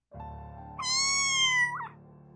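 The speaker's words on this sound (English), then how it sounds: "Aside from the echoing meowing, I didn't hear any other living thing." One cat lets out a single drawn-out meow, rising in pitch and then trailing off, fairly clear and alone against a quiet background with a slight reverberant ring.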